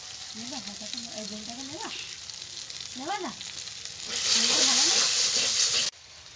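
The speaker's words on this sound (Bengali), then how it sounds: "মশলাটা কষানো হয়ে গেছে" Spices with asafoetida and kasuri methi sautéing in a pan give a steady hiss that swells into a louder, brighter sizzle near the end, while a voice talks quietly over the frying at first.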